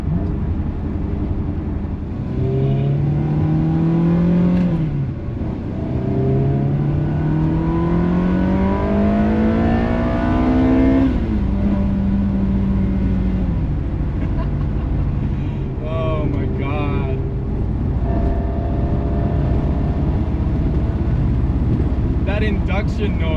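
A Ferrari 360 being driven, its engine and intake induction noise rising through several revving gear pulls that climb and drop in pitch, loud and close from inside the car, with a voice speaking over parts of it.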